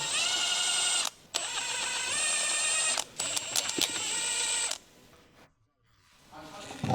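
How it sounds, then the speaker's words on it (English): An electric impact wrench with a 19mm deep socket spins off the wheel hub bolts on a 2015 Ford Escape, a loud, close whine in long bursts broken by short pauses and brief hammering stutters. "Use a 19mm deep socket with an electric impact wrench to remove the wheel hub bolts."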